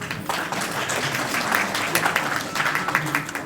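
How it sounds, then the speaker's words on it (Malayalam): An audience claps steadily at a Malayalam film trailer launch event for Achyutha Avatharam. The applause is loud and sustained for several seconds, with some voices mixed in. "സോ ഒരു ചെറിയ കൈയടിയാവാം."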